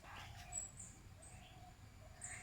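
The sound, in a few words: bird warning call near its nest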